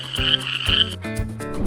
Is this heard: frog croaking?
yes